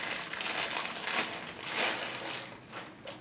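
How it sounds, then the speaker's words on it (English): Plastic packaging crinkling and rustling as a new Sig P320 X5 competition pistol is unwrapped fresh from the factory box, a steady close-up crackle with no talking. "So I'm going to unwrap this."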